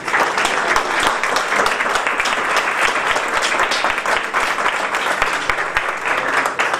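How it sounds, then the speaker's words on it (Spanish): Steady, full applause from the audience at an honorary award ceremony, dense and even from start to finish. "es la doctora Guillermina Bravo Montaño, para quien pide un aplauso."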